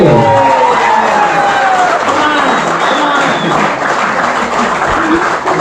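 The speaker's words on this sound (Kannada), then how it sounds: "ಜೋರಾದ ಚಪ್ಪಾಳೆಗಳೇ" Loud, sustained applause from a crowd at a tournament award distribution ceremony, steady clapping with some cheering continuing throughout, with voices mixed in.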